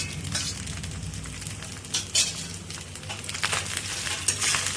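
Cooked rice for soya pulao is stirred in hot oil in a pan, giving soft, steady sizzling with irregular scraping bursts of the spoon, close and fairly quiet, with no talking.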